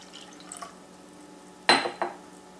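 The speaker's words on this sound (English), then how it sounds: "I'm now going to pour out approximately 150 milliliters of water." About 150 millilitres of warm water poured into a container during a latent heat of fusion experiment, a sudden splashing rush that fades quickly with a brief second splash, following quiet light clinks.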